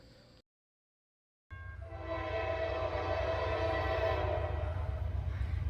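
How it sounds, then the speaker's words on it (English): Norfolk Southern train 981, hauling export locomotives from the Wabtec plant in Erie, Pennsylvania, bursts in after a moment of near silence with a loud, sustained horn over a steady rumble of passing rail cars. "we see Norfolk Southern train number 981"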